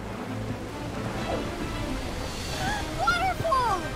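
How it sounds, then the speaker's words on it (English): A waterfall in an animated forest adventure rushes steadily in a broadband wash. Faint whistling tones rise over it near the end. "Waterfall!"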